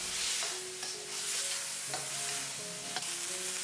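Minced pork sizzling in a wok after cooking wine is added, an intense close hiss of frying with the clink and scrape of stirring throughout.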